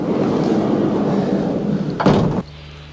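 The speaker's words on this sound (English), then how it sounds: "So let's open the door and get inside." Door of a VW Crafter van opened once with a short, loud clunk and slide near the end, following steady broadband outdoor rumble, with no talking.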